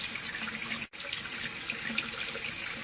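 Water runs from a tap feeding a Rheem RTEX-18 tankless water heater, a steady close hiss of flowing water with a single brief cutout near the start and no talking.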